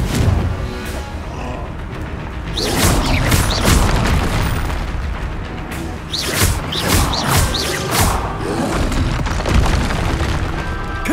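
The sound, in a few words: Confringo spell blast in video game Hogwarts Legacy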